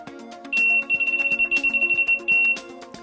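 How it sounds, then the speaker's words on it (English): A Delkim NiteLite Pro illuminating hanger's bite alarm sounds as a steady high electronic tone lasting about two seconds, over rapid rhythmic clicking and a faint background hum. "This is an illuminating hanger, which has its own integral magnetic line clip, LED, and bite alarm attachment"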